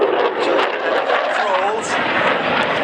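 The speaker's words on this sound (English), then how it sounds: "the Unified Typhoon of Italian Air Force Flight Center is coming up from the left side" An Italian Air Force Eurofighter Typhoon jet performs an air show display at Radom, a loud roaring engine rush with a wavering pitch as it passes, while an announcer speaks over it.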